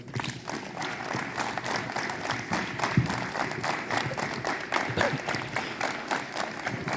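Students at a school morning assembly clap together in a steady run of quick rhythmic claps, a crowd of hands beating in loose unison at moderate distance for several seconds.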